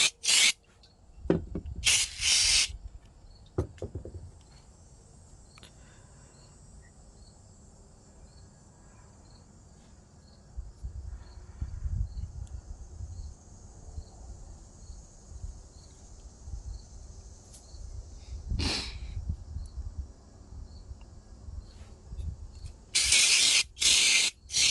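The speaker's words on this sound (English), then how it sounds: "Get a little spray right there." An aerosol can sprays onto a lawnmower during home maintenance in short sharp hissing bursts, several in quick succession at the start and more near the end. Steady outdoor insect chirring fills the gaps between bursts.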